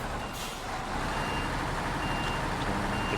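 Truck reversing in the off-road driving game SnowRunner, a steady engine drone with faint repeated reversing beeps and a brief air-brake hiss, fairly loud and continuous with no talk.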